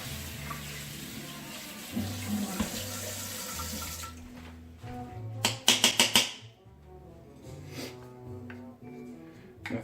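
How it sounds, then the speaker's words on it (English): Running tap water while rinsing during the making of beef manicotti cannelloni: a loud, steady rushing hiss for several seconds that stops abruptly, followed by a few close clattering knocks and quieter kitchen sounds. "Rinse that off."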